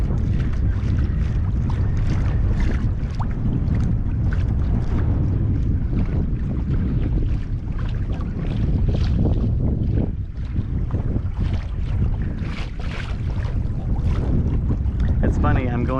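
Strong wind buffets the microphone while kayaking into it at a boat ramp near high slack tide, a loud, continuous low rumble with gusty surges and faint water sounds throughout.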